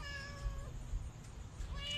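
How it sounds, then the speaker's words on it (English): A cat meows softly up close, a couple of short rising calls separated by a pause, faint against a quiet background. "so this cat just approached me"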